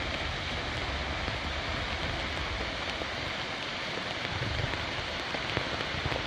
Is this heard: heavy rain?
yes